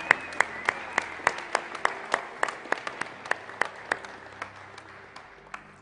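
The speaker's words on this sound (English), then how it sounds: "Can you clap for those guys?" A church congregation claps, its sharp, distinct handclaps falling in a steady, fairly regular rhythm over a few seconds, loud and close against a faint, sustained tonal background.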